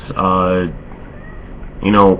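Two drawn-out, tonal cat meows, the first lasting over half a second, then a short pause and a second similar cry, close and fairly loud.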